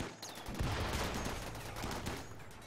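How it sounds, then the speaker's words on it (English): Faint gunfire in the game Rimworld comes as a quiet burst of rapid rattling shots over a soft, continuous background wash. "Rasta gets shot in the head."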